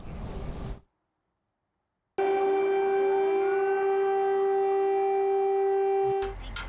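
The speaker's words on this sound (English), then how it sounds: "The air raid sirens are going off in Kyiv again on the city's streets" A long, steady wailing air raid siren on the streets of Kyiv drones alone after a brief burst of noise and a moment of silence, holding one sustained tone before cutting off.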